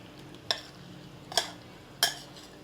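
A spoon stirs hot tempering into a mango pickle mix in a bowl, giving three sharp, separate clinks against the vessel over soft background hiss.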